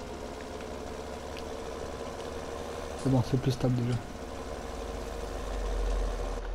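Farm tractor engine idling steadily in the background, a low continuous rumble, while someone speaks French over it.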